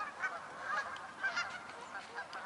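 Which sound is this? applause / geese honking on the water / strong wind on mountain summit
geese honking on the water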